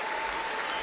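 Stadium crowd at a Commonwealth Games athletics meet, applauding in a brief, dense burst of clapping that stays steady and full.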